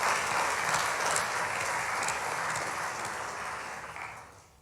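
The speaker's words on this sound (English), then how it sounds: "So I just want to give a round of applause for those people." Broad applause from a ceremony audience, steady dense clapping that holds for several seconds and then fades out toward the end.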